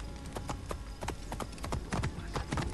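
Horse hooves clip-clopping at speed in the Assassin's Creed Origins video game, a rapid drumming gallop under busy game sound and a faint voice.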